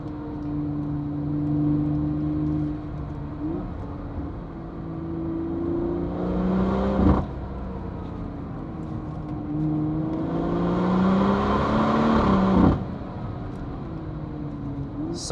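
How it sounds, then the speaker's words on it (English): A BMW M140i driving up the Hulftegg Pass in the Swiss Alps, its engine droning steadily inside the cabin and rising in pitch through the gears, with two brief louder whooshes as it passes close to roadside walls. "this car sounds so great, especially next to those walls"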